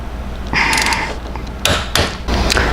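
A wrench ratchets and clanks while a motorcycle passenger foot peg bolt is tightened to 25 to 35 foot-pounds, close and loud, in short bursts of mechanical clicking with a couple of sharp metallic knocks.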